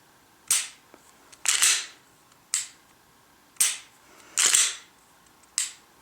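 Glock 19 fitted with a Skimmer trigger and 3.5-pound connector, dry-fired six times at uneven intervals, each break a sharp, close metallic click, some with a quick double snap, in a quiet room.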